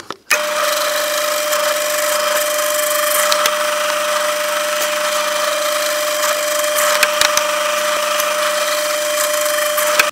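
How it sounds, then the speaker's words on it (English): A power drill bores quarter-inch holes into wood for number 10 screws, a loud continuous whirring drone that runs steadily for the whole stretch, close to the microphone with no talking. "Drilling at a 1/4 inch for these number 10s."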